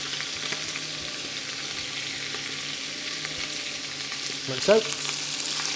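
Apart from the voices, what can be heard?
onions frying with pork belly in a pan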